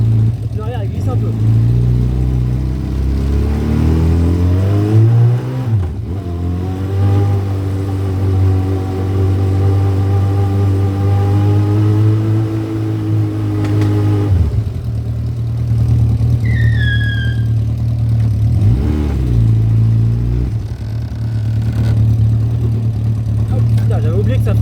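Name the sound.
Yamaha XJ600 motorcycle engine revving and idling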